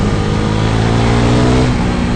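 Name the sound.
Husqvarna Vitpilen 401 single-cylinder motorcycle engine accelerating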